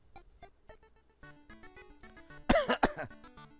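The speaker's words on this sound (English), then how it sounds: "Lately, I cough a lot." A couple of quick coughs break in over soft, tinkly background music from the video game Great Greed, short and fairly close.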